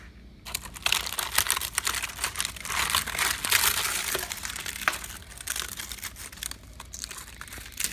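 Termites chewing through wood inside a home in Tampa Bay make a dense, continuous crackling and crinkling, with close, dry ticking and clicking that runs throughout.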